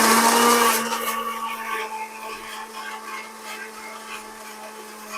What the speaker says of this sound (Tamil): இப்போ நம்ம நல்லா கிரைண்ட் பண்ணிட்டோம் பாருங்கள், நல்லா க்ரீம் மாதிரி ஆகிட்டு